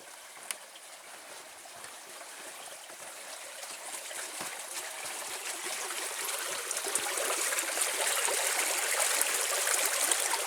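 A creek flows out of a lake along a hiking trail, giving a steady broad rush of moving water that grows gradually louder and fuller, with no voices.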